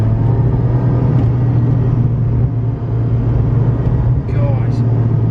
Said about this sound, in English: I'm driving a Ferrari right now.